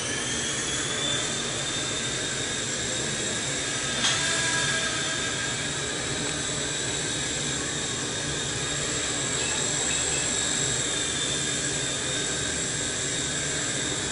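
A small electric ALIGN T-REX 100S RC helicopter hovers with a steady high-pitched whirring whine, continuous throughout, close by.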